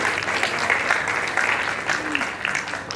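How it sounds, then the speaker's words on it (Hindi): Loud, continuous applause from a crowd at a music night, dense clapping holding steady throughout. "तालियां जोरदार तालियां।"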